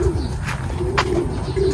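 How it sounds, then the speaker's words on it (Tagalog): Racing pigeons coo close by, with low throaty coos running through a brief outdoor moment. "Grabe yung mga ibon natin ngayon mga kalapatids"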